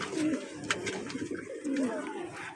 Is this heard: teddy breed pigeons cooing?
yes